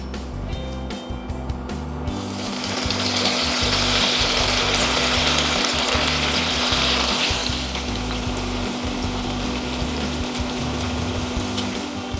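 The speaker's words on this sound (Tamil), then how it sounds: "இதில் வந்து நம்ம கட் பண்ணி வச்சுருந்த இட்லியை வந்து நம்ம போட்டு வறுத்துக்கலாம்." Cut pieces of idli frying in hot oil over medium heat, a steady dense sizzle that swells after a quiet start and holds loud and close, with no talking.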